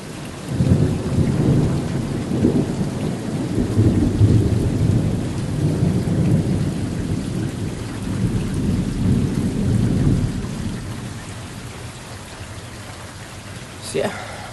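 A thunderstorm with steady rain and long rolling thunder rumbles that swell loud early on and fade toward the end, followed by a brief sharp crack near the close.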